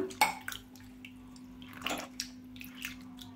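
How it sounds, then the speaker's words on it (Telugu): Another glass of water goes into soaked tamarind pulp, a soft, close pouring and trickling with a few small splashes and clinks in a quiet kitchen. "చూడండి నేను ఇంకొక గ్లాస్ అయితే వాటర్ పోస్తున్నాను"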